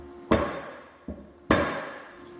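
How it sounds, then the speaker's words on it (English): A hammer drives a center punch into a Dana axle bearing retainer, three sharp metallic strikes, two heavy blows with a lighter tap between them, each ringing briefly before fading. "we're going to go ahead and center punch this bearing retainer."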